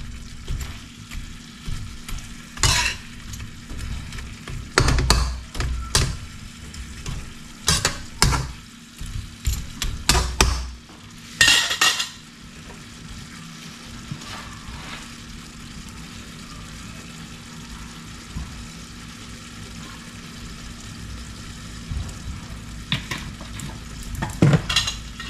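Food with onions and a splash of fish sauce is stirred as it fries in a pan. A steady sizzle runs throughout, broken by loud, irregular clatters of a utensil scraping the pan, with no talking.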